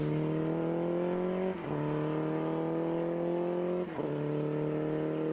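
A Sports 2000 race car cruising on a slowdown lap at Virginia International Raceway, its engine holding a steady smooth drone close by, broken twice by brief dips as the driver shifts.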